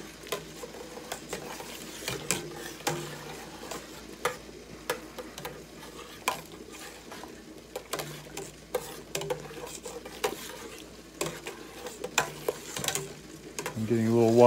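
A spoon knocks and scrapes repeatedly inside a pot while homemade pomegranate jelly is stirred vigorously, a steady run of close clacks and scrapes with a faint low hum underneath.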